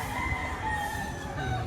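Chickens and a rooster at a poultry market in Lipa, Batangas, where fowl are kept in cages for sale, crow and cluck steadily over a busy, continuous background din.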